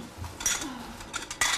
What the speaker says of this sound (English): she leaves Colin waiting with the food in the lounge room as she goes to get cutlery and two